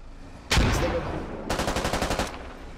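A grenade blast followed by a rapid burst of automatic gunfire in the military shooter game Squad, loud and close, one heavy boom then about a dozen evenly spaced shots.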